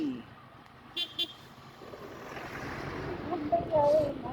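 A vehicle horn gives two short toots, then a brief tonal honk later, over wind and road noise with faint voices.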